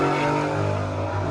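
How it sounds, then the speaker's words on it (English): A Honda and a Camaro race past nearby, engines revving hard in a loud, continuous roar that sweeps briefly and fades slightly. "that was 2 Hondas that just went at it with, well, actually 1 Honda with, I believe, maybe a Camaro"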